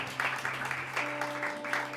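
A church congregation claps in unison, a dense patter of hands with a sustained musical tone beneath, moderately loud and continuous.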